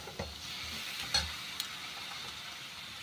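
Spices fry in a hot wok for a vegetarian cauliflower curry as hot water goes in, giving a steady soft sizzle broken by a few sharp clinks and stirring knocks.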